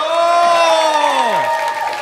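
Spectators at a bouldering semifinal of the Latvian open championship cheer and shout loudly and continuously, with a prominent voice's held whoop sliding downward near the end over the crowd noise.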